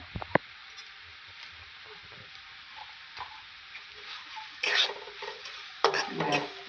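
Ground cumin and Kashmiri chili powder fry softly in a pan while a spoon stirs. Scrapes and clinks against the pan come in bursts, with a louder stirring flurry near the end.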